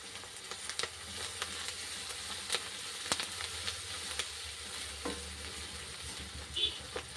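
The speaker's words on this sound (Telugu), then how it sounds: "ఇప్పుడు వీటిని పూర్తిగా కలిసేలా కలుపుకొని పసుపు అల్లం వెల్లుల్లి పేస్ట్ పచ్చివాసన పోయే వరకు ఉడికించుకోవాలి" Turmeric, ginger and garlic paste fries in a pan with a soft, steady sizzle, punctuated by scattered light clicks and scrapes of stirring, fairly faint and with no voices.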